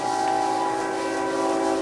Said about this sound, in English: Oh, you guys hear the train?